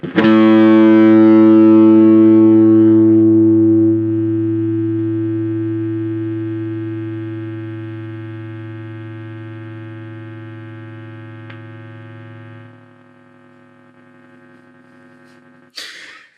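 A distorted electric guitar chord from a NUX Mighty Lite BT practice amp rings out loud, decays slowly with a steady hum, then the noise gate cuts it abruptly to near silence before a brief pick noise.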